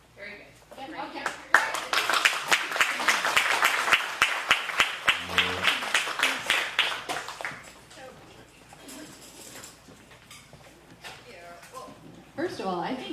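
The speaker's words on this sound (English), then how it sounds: "deserves another round of applause" A workshop audience claps together in sustained applause that swells, holds, then fades into scattered claps, with a person speaking over the tail.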